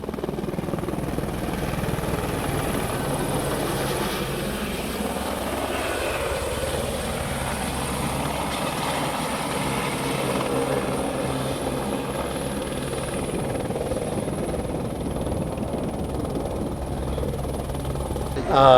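A tourist helicopter flying during the Onam festival in Muvattupuzha municipality gives a loud, steady rotor and engine drone that holds without a break for nearly twenty seconds.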